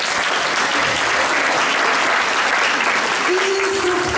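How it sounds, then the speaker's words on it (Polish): Dense, sustained applause fills a hall at a Christmas carol and pastoral song festival in Dębno as the audience claps for the children, youth and all participants, steady and fairly loud with a brief tone near the end. "I wielkie brawa dla dzieci, dla młodzieży, dla wszystkich uczestników"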